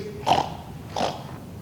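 A pig gives two short grunts or snorts about half a second apart, moderately loud against a quiet background.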